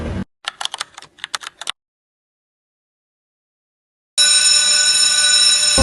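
Electric school bell ringing continuously and loudly for the last stretch, starting abruptly after a quiet gap that follows a burst of clicking taps.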